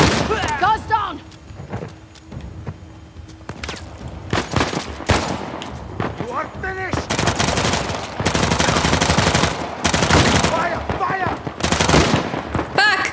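Gunfire in Uncharted The Lost Legacy: rapid automatic bursts and sharp shots crackle in dense clusters, growing heavier toward the end, with excited voices speaking over the firefight.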